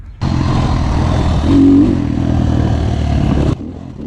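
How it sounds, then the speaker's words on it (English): A stock Moto Pro RR300 dirt bike engine revs hard as the rider sets off on a first hot lap, a loud, close, continuous buzzing roar that swells briefly mid-way before cutting off near the end. "Alright, and we are off on the first hot lap. This is the stock Moto Pro RR300"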